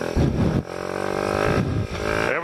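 A Kawasaki Z125 motorcycle engine revs hard in first gear during one-handed wheelies, rising and falling in pitch as the throttle opens and eases, loud and close with no talking.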